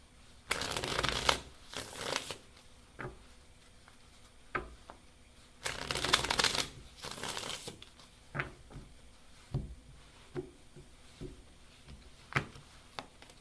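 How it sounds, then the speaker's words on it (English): Tarot cards are shuffled in two longer riffling bursts, each followed by scattered soft taps and flicks as the deck is handled, close and fairly quiet. "I'm still shuffling, hon."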